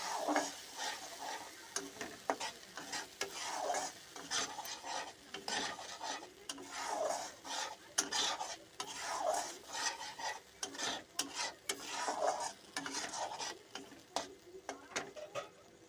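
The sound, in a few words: stirring fish curry masala in a pan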